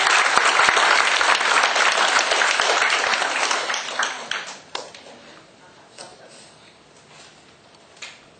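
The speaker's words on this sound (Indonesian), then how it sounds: "Beri tepuk tangan dong kepada Habibi." A seminar audience applauds Habibi in a dense, loud burst of clapping that thins out after about four seconds into scattered claps.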